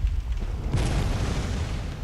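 A video game cannon booms once, a deep, loud blast that hits sharply and then rumbles away with a long, low decay, heard alone without talking.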